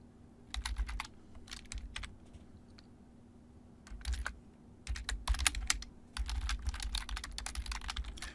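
Code is typed on a computer keyboard in bursts of rapid, close clicking separated by short pauses, with a low desk thump under the busier stretches and no speech.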